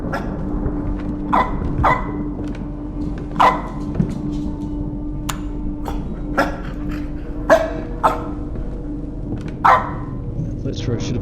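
A dog in a horror video game barks in sharp single bursts spaced a couple of seconds apart, over a steady low hum, with a person talking between barks.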